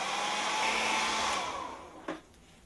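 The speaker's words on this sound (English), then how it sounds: "we'll take our hairdryer one more time, and we'll make sure that this is nice and dry" A hair dryer drying paint on a walleye fishing lure blows with a steady whooshing whir close by, then it is switched off and winds down, with a brief knock near the end.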